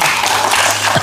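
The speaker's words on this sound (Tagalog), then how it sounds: "Palakpak po kita." An audience at a barangay gathering in Malansad Viejo, Libmanan claps in a brief, dense burst of applause that fills the space evenly for about a second.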